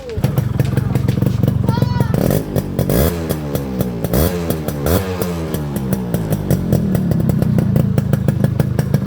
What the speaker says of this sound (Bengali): কড়া ইঞ্জিন দুটাই আপনাদের একটু সাউন্ড আপনাদের শোনাবো